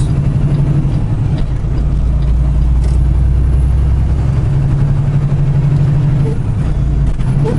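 Big Blue, a heavy semi truck, rumbles steadily from inside the cab with a loud deep diesel drone throughout, the engine note shifting slightly during a fumbled gear change.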